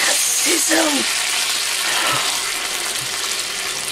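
Tinned tomatoes hitting a hot non-stick pan, a loud, steady hiss and sizzle with a few short spattering bursts, a voice briefly audible under it.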